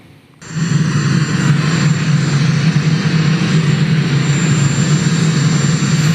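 Loud, steady roar of Air Force One's engines, the presidential airplane, swelling in after a brief quiet start and holding a constant deep rumble with a hissing wash above it, close and continuous with no talk.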